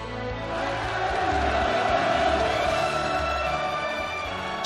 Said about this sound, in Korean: 김정은 동지께서 도착하시자 우렁찬 만세 환호성이 하늘 땅을 진감했습니다